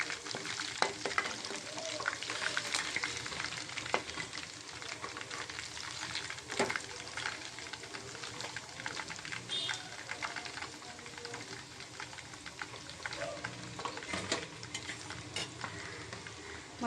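Chicken pieces frying golden in oil for chicken pickle, a dense close sizzle with occasional stirring scrapes and clatter.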